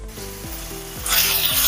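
Masala paste for fish curry fries in a pan with a steady close sizzle that swells louder and brighter halfway through, while soft tonal music plays underneath.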